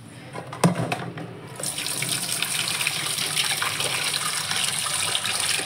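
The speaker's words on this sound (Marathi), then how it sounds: "पाणी टाकते" Water runs from a kitchen tap into a container, starting with a few clinks and a brief splash, then a steady, close hiss of flowing water that continues to the end.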